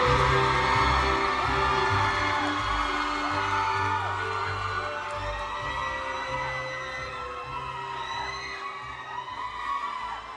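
A large audience cheers and screams with whoops at the Komchadluek Awards ceremony as a singer takes the popular Thai international singer award, a loud continuous crowd roar that slowly eases, with an amplified voice heard faintly beneath.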